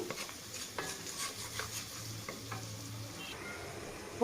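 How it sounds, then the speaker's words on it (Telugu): Masala rice ingredients fry gently in a pan with a soft steady sizzle, punctuated by light scraping and clinks of a spoon against the pan; no voices. "ఇది కూడా పచ్చ స్మెల్ పోయేంత వరకు మంచిగా వేయించుకోవాలి"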